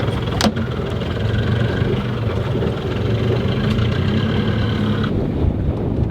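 A boat engine drones steadily and close by as the vessel moves forward after the anchor is raised, a constant low rumble with a brief clank near the start.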